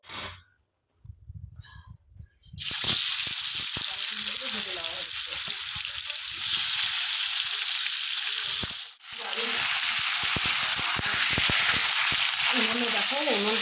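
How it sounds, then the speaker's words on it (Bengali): Ash gourd pieces fry in hot oil with a loud, steady sizzle that starts after a quiet, clattery opening, dips briefly, then resumes, with faint stirring under it. "আর এই তেলে কিন্তু এখন চাল কুমড়োগুলো ভেজে নেব"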